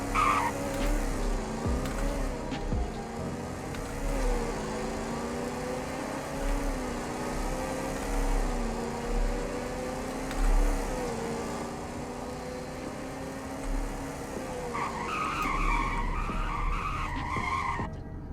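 In the video game Greenville, a car engine drones steadily for a long stretch before the brakes bite, bringing a loud, sustained tire squeal and skid near the end, with no talk.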